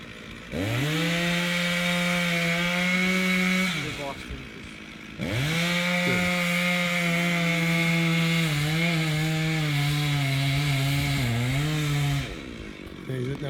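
Chainsaw felling a wild cherry tree, cutting out the middle behind the notch: two long, loud passes of a steadily droning saw, separated by a short pause, with the pitch sagging and wavering as the chain bogs down in the wood.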